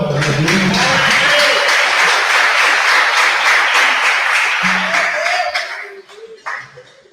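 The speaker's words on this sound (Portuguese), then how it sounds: "Você pode aplaudir o Senhor?" Church congregation applause, a full, sustained burst of many people clapping with voices mixed in. It fades near the end, leaving scattered claps and talk.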